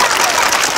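Crowd applause for a student at a dictation competition event in Canada, a dense, steady wash of clapping filling a short stretch, fairly loud and even throughout.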